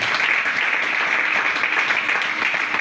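Congregation at a church service applauding and cheering for Jesus, a loud, dense and sustained wash of clapping from many hands without pause.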